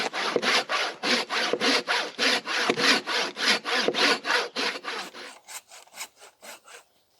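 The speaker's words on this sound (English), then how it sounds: "So I'm going to have to hand saw this tree out of the way." Hand saw cutting through a fallen tree on a trail, a steady run of about fifteen loud rasping back-and-forth strokes that slow and thin out toward the end, with no talking.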